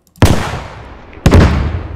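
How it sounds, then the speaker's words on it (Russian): Two heavy tandem shell blasts in a military shooter game, each a sharp, loud boom followed by a rumbling decay, about a second apart. "А вот это вот дрожание видели, да, после взрыва тандемного снаряда?"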